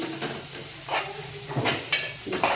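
Grated raw mango frying in a pan for mango rice, stirred repeatedly, with crackling sizzle and short scraping bursts of the spoon, close and fairly loud, no voices.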